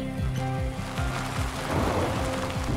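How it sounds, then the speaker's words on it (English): Rain falls steadily during a rainy day in Tasmania, a constant broadband hiss of drops lasting throughout, layered with low repeated rumbling thuds, likely from a campervan on the road. "today we are having a quite the rainy day"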